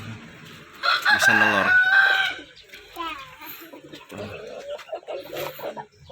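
A rooster crows loudly and close in a chicken coop, one drawn-out call near the start, followed by softer clucking and fowl calls while a person speaks.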